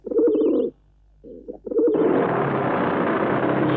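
Pigeons cooing in a film scene: a few soft, throaty coos come in short bursts, then a steady, loud rushing noise takes over.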